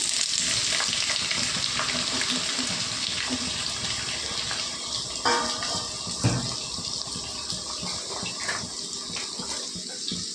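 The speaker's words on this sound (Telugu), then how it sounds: "నూనె వేడెక్కిందండి ఉల్లిపాయలు పచ్చిమిర్చి వేసేసుకుందాం" Onions and green chillies frying in hot oil for a brinjal tomato curry, a steady loud sizzle throughout with a few brief clatters of stirring in the pan.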